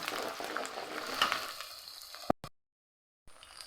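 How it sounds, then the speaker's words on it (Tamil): Curry leaves with ginger-garlic paste sautéing in a pan give a steady close sizzle and crackle for about two seconds, then stop abruptly into silence before faint frying noise returns. "கருவேப்பிலை, இஞ்சி பூண்டெல்லாம் வதங்கியாச்சு"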